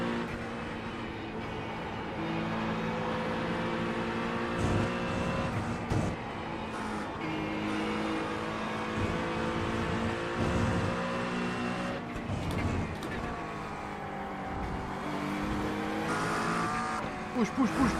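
A GT3 race car in the sim racing game iRacing at IMSA Long Beach drones steadily through the gears with rising and falling engine pitch, occasional tire squeal, and a driver talking intermittently over it.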